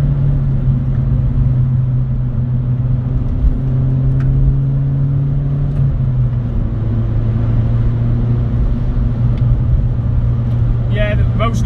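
A 2012 Mini Cooper S hatchback (R56) engine hums steadily from inside the cabin on a wet, winding road, its tone dropping audibly around the shift into third gear, with a low continuous rumble throughout.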